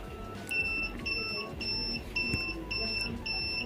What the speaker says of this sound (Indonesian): akan berbunyi seperti itu ya alarmnya